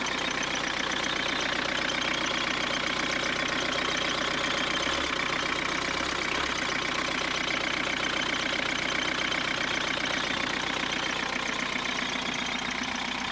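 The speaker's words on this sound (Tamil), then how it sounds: "கொஞ்சம் நாய்ஸாக தான் இருக்கும், ஏன்னா டீசல் வெஹிக்கிள்னாவே கம்பல்சரி நாய்ஸாக தான் இருக்கும்." Diesel 1527cc sedan engine idling with a dense, even clatter, steady and close for the whole stretch, with no voices over it.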